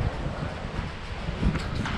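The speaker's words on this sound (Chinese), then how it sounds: "这今天我估计这7、8级大风" A force 7 to 8 gale blowing through a site where a makeshift house roof was torn off and caught on a fibre-optic cable, a loud continuous low rumble of gusts buffeting the microphone.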